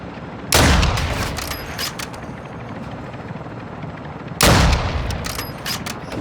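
Bursts of rapid gunfire in a Call of Duty Modern Warfare II DMZ match, two loud volleys over a steady helicopter rotor drone, with no talk.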